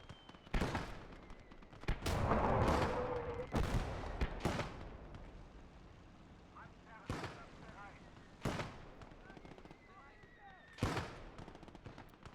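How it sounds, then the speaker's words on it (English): A 60 mm mortar bombing run in the video game Gates of Hell, heard as a string of heavy blasts spaced a few seconds apart, some loud and close, others fainter, with gunfire and battlefield noise between them. "And that's like a 60 mil mortar bombing run."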